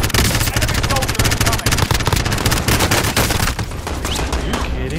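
Dense, loud video-game gunfire from a Plunder match, with rapid automatic bursts and overlapping shots firing almost continuously, thinning slightly near the end as a voice speaks under the noise.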